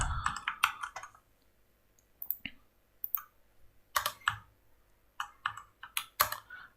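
Someone types Java code on a computer keyboard in bursts of quick, close key clicks with short pauses between them, and nobody speaks.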